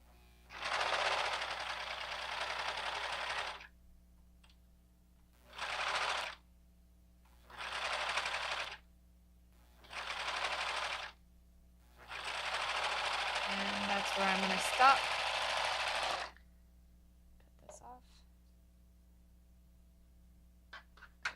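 Foot-pedal sewing machine running indoors in short bursts of fast, even stitching separated by pauses, one longer run near the end, faint and close.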